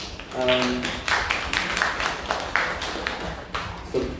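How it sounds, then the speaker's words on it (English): Audience applause for panel speakers at a university talk on Islamic accounting and finance, a few seconds of scattered, moderately loud clapping with a voice briefly heard. "give a round of applause to our speakers"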